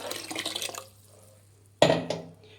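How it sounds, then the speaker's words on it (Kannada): Water is poured into a mixer jar in a home kitchen: a splashing pour for almost a second, a pause, then a louder, sharper gush of water into the jar. "ಅದೇ ಮಿಕ್ಸಿ ಜಾರ್ಗೆ ನೀರು ಹಾಕ್ಕೊಳ್ಳಿ."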